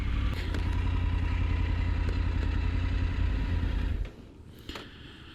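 A Triumph Tiger 900 Rally Pro motorcycle rides through town, its engine a loud, close, steady rumble from the rider's position that drops off sharply near the end, leaving a quieter idle with a brief clatter.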